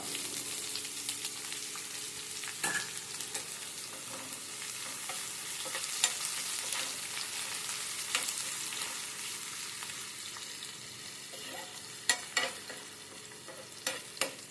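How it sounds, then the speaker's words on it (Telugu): Onions sizzle steadily in hot oil in a pan, a continuous close frying hiss with occasional scrapes and clacks of a spoon stirring them. "ఇప్పుడు ఎర్రగడ్డలు వేస్తున్నాను."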